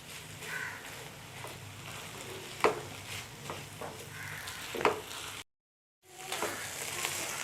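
Onion and bell pepper frying in a pan, a soft steady sizzle broken by a few sharp scraping stirs, with a brief gap of silence near the end.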